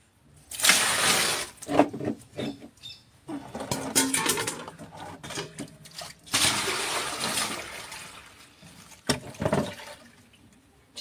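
Water poured from a container in a home bathroom, sloshing in irregular splashing bursts with brief pauses between pours, heard close up and fairly loud.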